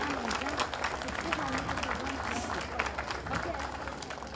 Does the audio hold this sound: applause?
yes